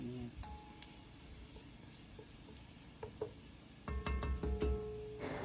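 Garlic fries in a pan for kare kare with a faint, steady sizzle, broken by a few clinks and then a louder burst of metal utensil scraping and stirring near the end.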